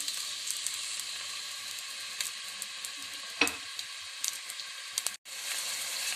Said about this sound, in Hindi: सबसे पहले हम ऑयल शामिल करेंगे। बिस्मिल्लाहिर्रहमानिर्रहीम। और साथ ही प्याज डाल देंगे।